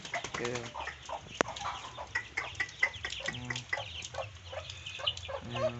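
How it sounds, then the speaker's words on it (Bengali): Desi mother hens in a home flock cluck repeatedly in short, rhythmic bursts at close range, with a few flaps and other fowl calls overlapping in the busy, moderately quiet yard. "সব মা ডাকতিছে দেখো"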